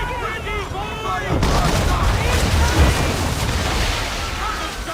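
Musket volleys in the Assassin's Creed 3 video game, with a dense burst of booming gunfire and rumbling blasts from about 1.4 s onward that stays loud and thick, preceded by shouted commands.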